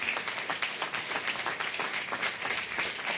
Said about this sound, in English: Give Shyla a great big round of applause.